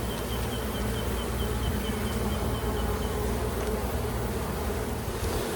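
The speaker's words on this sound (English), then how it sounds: "Dropped a few bees." Dense, steady buzzing of honeybees around an open hive being inspected for eggs, loud and continuous throughout with no talk.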